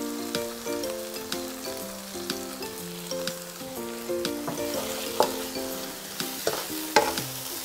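Padang-style crab sauce paste of oyster sauce, tomato ketchup and sweet chili sauce sizzling in a pan while being stirred, with steady frying hiss under clinks and scrapes from the utensil.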